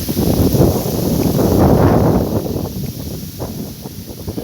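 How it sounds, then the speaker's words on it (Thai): Strong wind blowing across open rice fields in rural Thailand, a loud broad rushing buffet against the microphone that swells and then eases slightly, with no talk over it. "ลม"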